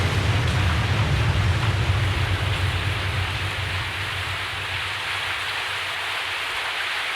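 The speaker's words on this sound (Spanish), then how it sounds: "La tormenta se había desatado." Storm and heavy rain for a Spanish radio drama about Saint Anthony of Padua at sea, a dense constant hiss of downpour with a low roar underneath that eases slightly partway through, no voices.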